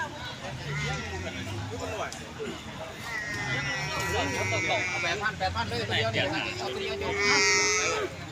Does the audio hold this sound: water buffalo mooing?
yes